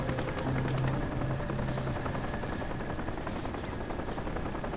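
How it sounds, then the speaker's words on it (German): A helicopter's steady rotor thump and engine drone fill the scene in the video game Crysis, loud and constant without a break. "der Hubschrauber ist da hinten irgendwo beschäftigt."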